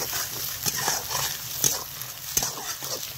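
Lightly fried scrambled egg hisses in a pan with a constant bright sizzle, while occasional spatula scrapes and taps break through at irregular intervals.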